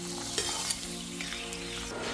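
Beetroot and carrot snacks fry in hot oil with a continuous close sizzle, broken by a few sharp crackles and a quiet hum underneath.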